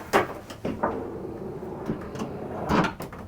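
The squeaky trash can compartment in an RV bathroom is opened and shut, giving a few short creaks and clunks spaced through the moment, fairly close and with no talking.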